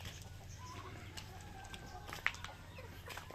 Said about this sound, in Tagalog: Ganda yung pagka Rhode Island Red natin mga tropa